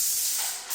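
Ceramic glaze sprayed onto a clay lamp: a short, steady airy hiss of the spray that lasts under a second and fades slightly at the end.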